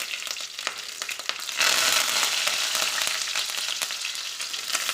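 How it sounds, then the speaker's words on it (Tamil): Mustard seeds and curry leaves frying in hot oil for a bottle gourd kuzhambu, with a close steady sizzle that jumps louder partway through, studded with sharp popping crackles and some stirring; no voices. "எண்ணெய் சேர்த்துனோடனே கடுகு நல்லா பொரியட்டும்."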